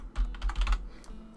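Quick burst of computer keyboard typing, close and fairly soft, with several rapid key clicks clustered together, then a pause and one or two isolated keystrokes, no voices.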